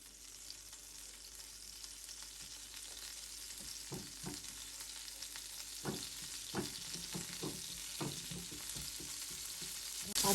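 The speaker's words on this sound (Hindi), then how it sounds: "अब मेल्ट हो गया बटर।" A tablespoon of butter melts in a pan for Korean cheese corn, giving a soft, steady sizzle with scattered light pops and occasional spatula taps. No voices over the quiet frying.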